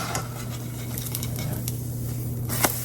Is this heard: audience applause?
no